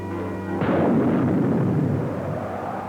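A deep, rumbling blast marks the explosive birth of the planet Nova in a film effect, swelling suddenly out of a low tonal drone and then rolling on as a long, loud, fading roar.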